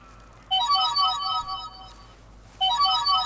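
A mobile phone lying right beside the microphone plays a loud melodic ringtone in two bursts separated by a short pause, over a low steady background hum.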